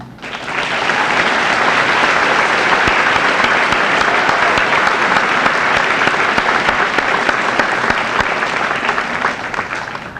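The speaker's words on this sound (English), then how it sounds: "One more round of applause for all these students" A large school assembly audience claps loudly and continuously for senior award-winning students, a thick, sustained burst of applause that swells in quickly and tapers slightly at the end.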